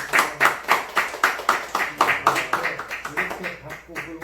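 A church congregation claps in a steady rhythm of distinct, fairly close hand claps that fade gradually toward the end.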